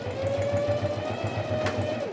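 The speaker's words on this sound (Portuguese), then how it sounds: "vamos costurar aqui." A sewing machine runs steadily, stitching through a small box made from a milk carton, its rapid rhythmic needle beat close and even throughout.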